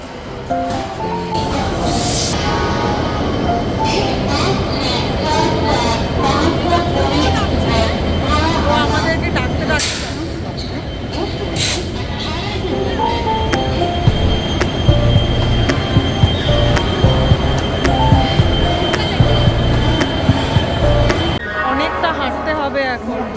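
A passenger train pulling into a station, a loud continuous rumble of rolling wagons with squealing wheels and clattering joints, while people talk nearby on the platform.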